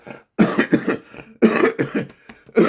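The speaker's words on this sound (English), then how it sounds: "let me clear my throat" A series of sharp, close coughs and throat-clearing bursts, several in quick succession with brief gaps between them.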